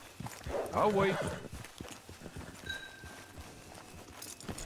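Horse hooves clip-clop at a walking pace near the start in the video game Red Dead Online, then fade while a voice talks and faint tones sound in the background.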